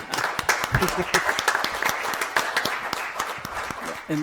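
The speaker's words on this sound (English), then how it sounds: "We don't usually clap, but I think we should clap for you." Audience members at a city council meeting clap together in a short, fairly close round of applause that thins toward the end, with a few voices over it.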